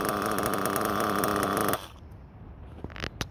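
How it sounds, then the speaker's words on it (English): Small RC nitro engine with a working glow plug, running with a loud, rapid buzzing drone for under two seconds, then cutting out, leaving quiet with a few faint knocks. "the plug lit up, it's running and idling good"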